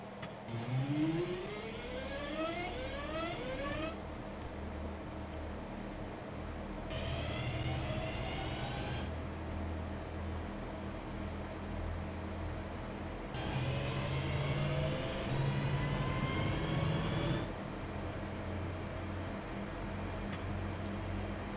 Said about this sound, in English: So notch 1, we just listen to the engine.